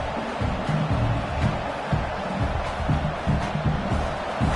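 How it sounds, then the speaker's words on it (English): A college football stadium crowd at a Duke vs. SMU game roars and cheers in a steady, dense wall of noise that holds loud throughout. "It's early, but this crowd is fired up. Listen to this noise here."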